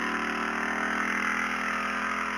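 A motorcycle engine runs steadily at close range, a continuous mid-pitched drone with even hum and no break or change in pace.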